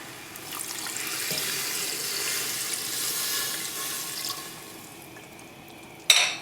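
Water poured into a pot for Guyanese pepper pot with stewing beef, a steady splashing stream for about four seconds that tapers off, then a short clink at the end, no talk.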